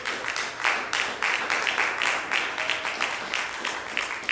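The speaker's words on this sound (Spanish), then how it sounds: "Dale palmas al Señor Jesús" A church congregation applauds in praise, with irregular rhythmic clapping bursts that rise and fall over a few seconds. The clapping is moderately loud and carries a room echo.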